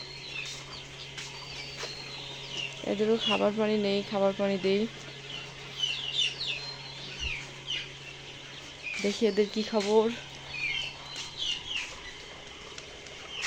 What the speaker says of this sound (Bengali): কয়েকটা পাখি বের হয়েছে।